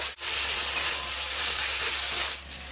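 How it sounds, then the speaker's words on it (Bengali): Ginger-garlic paste, dried chilli and cumin paste hitting hot oil in a pan, a loud, dense hissing sizzle that starts after a brief gap and holds steady, easing slightly at the end. "এবার দিয়ে দেবো আদা রসুন বাটা আর দিয়ে দেবো এখানে শুকনো লঙ্কা আর জিরে বাটা দিয়ে একটু নেড়ে নেবো"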